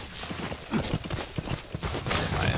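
Horse hooves clip-clop on the ground in Metal Gear Solid V, a run of quick, fairly close beats with a brief faint voice beneath.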